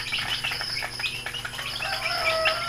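Young early-bird chicks, four days old, peep in a brooder with a soft, continuous high chirping chorus at moderate level, no voices.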